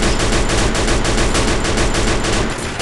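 Rapid, loud automatic gunfire in a multiplayer shooter game fills the whole stretch, a dense continuous rattle of close shots that cuts off sharply at the end.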